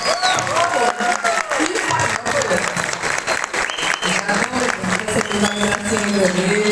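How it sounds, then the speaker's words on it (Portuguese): A crowd at a marketing panel claps steadily and loudly throughout, dense applause with some voices mixed in. "Vamos aplaudir."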